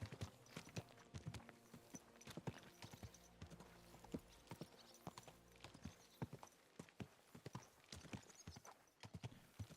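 Steady clip-clop of horse hooves on hard ground in Kingdom Come: Deliverance II, a brisk repeating rhythm, with a brief whinny-like note in the mix.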